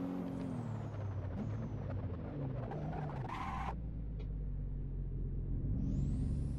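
Car braking in the driving game Assetto Corsa, in traffic mode, with a Nissan and Mazda compared: steady low engine and road rumble runs throughout, with a brief hissing brake burst midway and a rising whine near the end, no talk.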